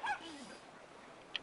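A dog whimpers in Brothers: A Tale of Two Sons, with a short high whine that slides downward, then a quiet stretch ending in one brief sharp yip.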